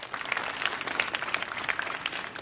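Audience applause welcoming a student debate speaker at a televised Ramadan debate competition in Pakistan, a steady dense patter of many hands clapping at moderate level with no talk over it.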